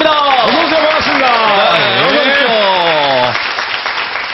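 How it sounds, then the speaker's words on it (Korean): Broad audience applause welcoming four high school students onto a television stage, steady and loud under a host's continuous talking, thinning toward the end. "여러분 다시 한번 큰 박수로 맞아주시기 바랍니다"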